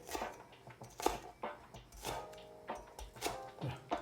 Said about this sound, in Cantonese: 葱咧切粒粒就得啦，嗱切一切